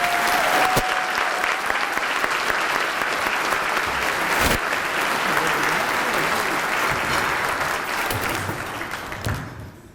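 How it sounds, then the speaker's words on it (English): An audience at a state of the city address gives the arriving mayor a long, loud round of applause, a dense steady clatter of clapping that holds for about ten seconds before thinning out at the very end. "Let's receive him now as he comes with a warm welcoming of applause."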